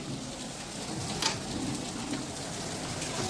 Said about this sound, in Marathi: इथे पाऊस थांबत नाही बघा